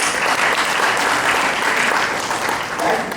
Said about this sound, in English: Let's give Ryan a round of applause